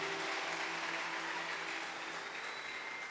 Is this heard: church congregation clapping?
yes